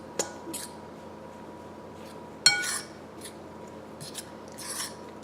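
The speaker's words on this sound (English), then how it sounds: "So we're going to add our butter to our flour mix, and we're going to mix that together." Grated butter is worked into flour for buttermilk biscuits in a bowl, giving soft scraping and rasping with a couple of sharp clinks of utensil against the bowl, fairly quiet and close.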